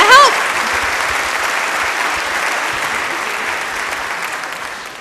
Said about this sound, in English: Could we give Lynn one more round of applause?